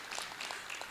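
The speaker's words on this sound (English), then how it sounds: "Another round of applause to Professor" Applause at a technology, security and development symposium, a faint, distant wash of hand clapping over a very short moment, soft and diffuse with no voices standing out.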